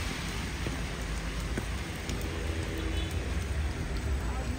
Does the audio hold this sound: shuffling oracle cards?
no